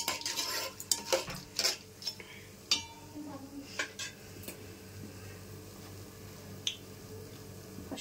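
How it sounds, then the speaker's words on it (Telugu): Whole pulao spices crackle and fry in hot oil while a utensil stirs them, making scattered metallic clinks and light sizzling, close and fairly quiet, busiest at the start and then thinning out. "ఇప్పుడు పలావ్ మసాలాలన్నీ వేస్తున్నాను"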